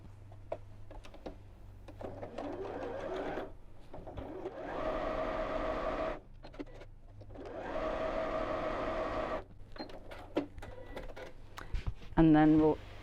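A sewing machine stitches fabric for a dog treat bag in two sustained whirring runs, each about three seconds long. Someone talks before and between them, and small handling clicks come near the end.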